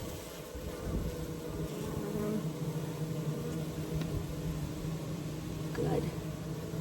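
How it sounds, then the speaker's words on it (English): Honey bees of a swarm colony in a 24-frame Layens horizontal hive, humming in a low, steady drone at close range with faint background noise. "I think the hive sounds happy."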